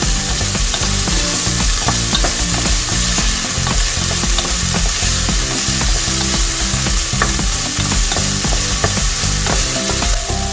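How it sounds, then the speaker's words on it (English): Garlic fries in a hot pan for adobo with a dense, steady sizzle and crackle, punctuated by frequent scraping stir strokes throughout. "At this point, I'm going to add my garlic. Cook for a little bit."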